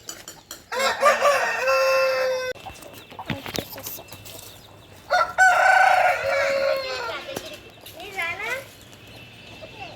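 Chickens on a farm clucking and squawking as they scuffle, with sharp loud calls and crow-like cries rising in bursts between quieter moments, close to the recorder, with voices talking nearby.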